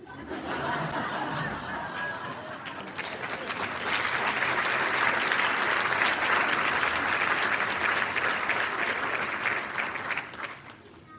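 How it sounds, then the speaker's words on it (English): Sustained audience applause for students at a high school academic achievement awards ceremony, starting moderately and swelling louder after a few seconds, with scattered chuckles and murmurs in the crowd before fading at the end. "Let's give them another round of applause"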